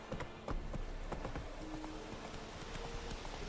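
Roach the horse galloping in The Witcher 3: Wild Hunt, a steady run of hoof clip-clops under a continuous outdoor background, moderately close and fairly quiet.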